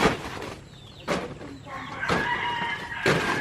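A chicken clucks a few times at close range on a farm in the Philippines, short bursts with gaps between, alongside some background rustling and faint voices.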